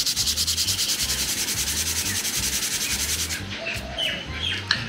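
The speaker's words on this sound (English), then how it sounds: "Try and sand as much as I can off the end of the blade." Sandpaper rubs rhythmically back and forth across the end of an RC propeller blade in quick, even strokes, then stops, leaving faint bird chirps in the background.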